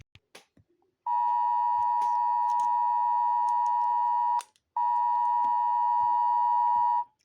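Philippines emergency alert system alarm: a loud, steady electronic tone sounds in two long blasts, about three seconds and then two seconds, separated by a brief gap, with faint clicks before it begins.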